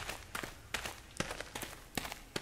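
Footsteps in the horror video game Toward the Light, a run of quick, evenly spaced crisp steps at moderate volume, heard alone without talk.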